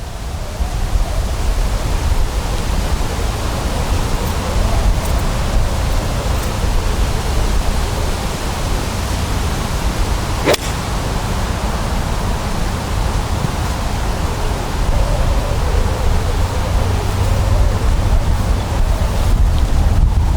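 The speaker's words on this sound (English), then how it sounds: "So how strong that wind is, guys" Strong wind blowing across an outdoor golf driving range, a constant loud roar buffeting the microphone throughout, with a single sharp click partway through and no talking.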